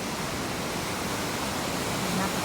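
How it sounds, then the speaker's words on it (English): Baxter Creek in the Sierra rushes past as a steady, broadband wash of water, close and continuous with no break, loud enough to fill the scene. "Here is Baxter Creek."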